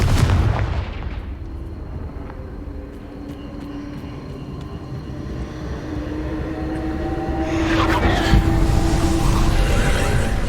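In Hogwarts Legacy, a Confringo blasting spell explodes with a loud booming burst at the start. A rumbling lull follows, then a second heavy blast near the end.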